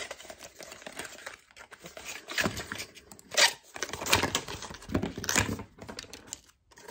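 Package being opened by hand, quiet irregular tearing, crinkling and rustling of wrapping in bursts with short pauses between them.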